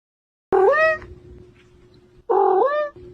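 A cat lets out two loud, close meows about a second apart, each rising and then falling, with quiet between them.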